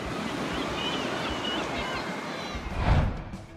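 Ocean surf on the coast at Tramore, Ireland, rolls in a continuous wash under wind noise, rising to a heavier crashing wave near the end of the clip.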